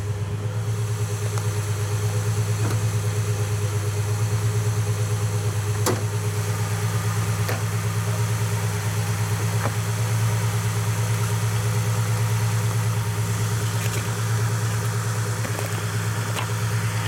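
A Ford Mustang engine idles under the open hood with a steady low hum and constant vibration. A few faint clicks sound nearby throughout.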